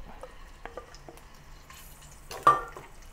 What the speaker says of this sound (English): With the wok unwashed, I'm going to add a little bit more oil. Then place the 2 salted egg yolks in the wok.